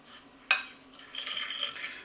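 A spoon stirs a dry coating mix of oats, polenta, turmeric and paprika in a bowl, starting with one sharp clink and followed by soft, close scraping and rustling.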